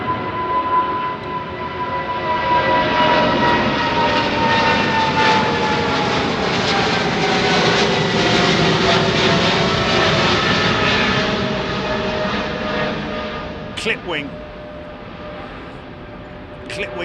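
A jet airliner climbs directly overhead after departing runway 09R at London Heathrow, a loud swelling engine roar that peaks mid-pass and slowly fades, with people talking briefly near the end.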